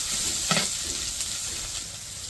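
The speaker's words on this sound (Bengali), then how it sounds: "পেঁয়াজগুলো একটু ভালো করে ভাজে নিই, অল্প একটু লবণ দিয়ে দেবো, লবণ দিয়ে পেঁয়াজগুলো ভাজে" Onions frying with a little salt in a pan give a steady close sizzle, with brief stirring scrapes partway through and no talking.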